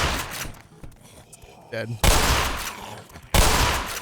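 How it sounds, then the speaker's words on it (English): Loud shotgun blasts fired in the Black Mesa video game, two heavy booming shots at about two and three and a half seconds, each with a long noisy tail, amid game sounds, with a brief spoken word or two. "Double shotgun blast."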